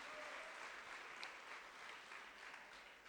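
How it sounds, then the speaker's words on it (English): Audience applause at a career expo fills the space with steady, dense clapping from a sizable crowd, sustained evenly throughout without a break and heard from a moderate distance. "Round of applause, please."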